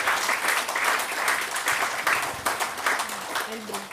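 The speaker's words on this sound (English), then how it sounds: "give a thunderous applause for our winners" Audience applause for the winners at a church celebration, a steady wash of many hands clapping with some voices mixed in throughout.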